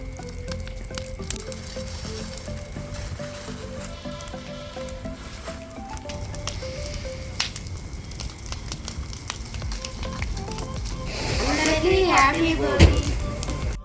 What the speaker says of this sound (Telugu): తేగలైతే భోగి మంటలు వేస్తున్నాను చూడండి.